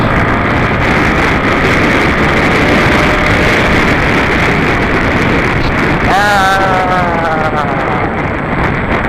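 A Honda Sonic 150R motorcycle with a CBR150R-derived engine, heard while riding under heavy wind roar; near the end its engine note rises sharply toward the red line, then falls away.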